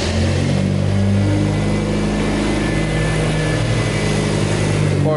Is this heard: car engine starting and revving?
yes